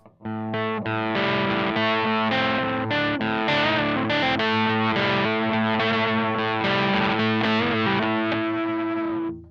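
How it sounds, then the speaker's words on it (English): An electric guitar runs through a Love Pedal English Woman overdrive, giving dense, continuously strummed distorted chords with long sustain at steady loudness, played alone for several seconds. "this is definitely a different type of overdriven sound, but there's some cool sustain effects to your notes"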